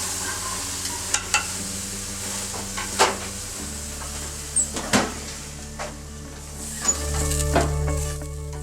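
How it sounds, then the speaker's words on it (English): Marinated flank steak sizzles on a hot grill in a low, continuous hiss, broken by scattered clicks and clatters from tongs and the meat being moved around. "Grab those tongs, pull that bad boy out, just throw it right on the grill."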